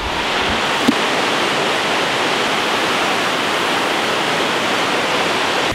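A flooded river rushes below with a loud, steady broadband roar of churning water that holds unbroken throughout, with no voices.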